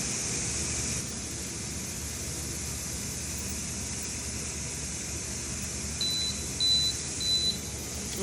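Steady hiss from a Carey/Nesco electric pressure canner with three short high electronic beeps near the end, evenly spaced and fairly faint.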